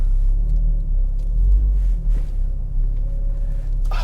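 A Volvo V70 shifted into drive pulls away with a low, steady engine rumble close by, swelling slightly as it moves off, with a few light knocks and a brief higher hum near the end.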